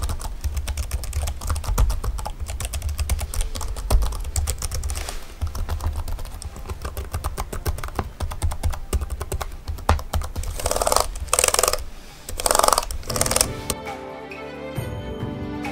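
Keys clatter in quick, uneven bursts of close, crisp clicks on the built-in keyboard of a GPD Win Max 2 handheld PC, with no voices over the typing.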